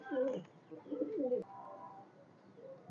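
Indian pigeons, blue pigeons offered for sale at a market, give two throaty cooing bursts close by, then a softer trailing coo over a murmuring background.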